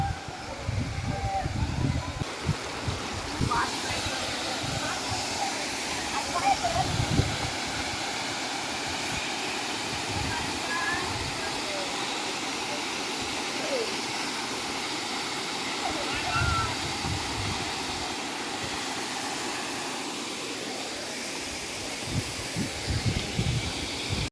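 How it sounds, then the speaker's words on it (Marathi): A constant roar of falling water from the Nagnath waterfall fills the scene, broad and steady, with scattered voices and footsteps faintly underneath. "वाव पाणी बघ कसलं वाजायला"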